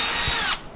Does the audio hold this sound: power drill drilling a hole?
yes